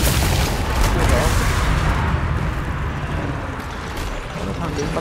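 Gunfire and artillery in Total War: Warhammer 2 form a dense, continuous battle roar of booms and crackling shots, loud and unbroken, with a voice talking over it.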